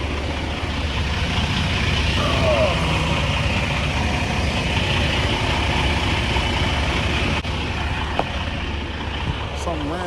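Truck engine running at idle, a steady low rumble that continues throughout at close range beneath someone talking.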